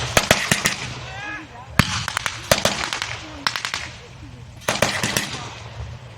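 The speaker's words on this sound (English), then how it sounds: "See, the German mortar is still firing too long." A German mortar fires at a military reenactment event, bursts of sharp cracking reports in rapid clusters, loud and close, separated by short pauses.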